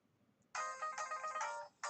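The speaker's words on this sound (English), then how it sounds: "we got a phone call" A phone ringtone for an incoming call, a bright electronic melodic tone playing in two phrases, fairly faint and alone against a quiet background with a short pause before it resumes.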